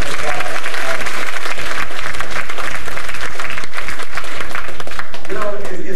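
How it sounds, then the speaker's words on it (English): Sustained audience applause at a 1999 Richard Hatch talk in Melbourne, dense clapping from a large crowd that stays loud and even for the whole stretch, with faint voices mixed in. "Yeah, please give him a big round of applause."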